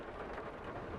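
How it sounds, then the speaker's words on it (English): Thunder rumbles with steady rain in the Farming Simulator 22 farming game, a continuous broad wash of downpour with a low roll of thunder and no voices. "And, ooh, thunder."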